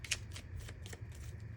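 A deck of cards being shuffled close by, a soft continuous riffling flutter with light rhythmic snaps, quiet and alone under a low steady hum.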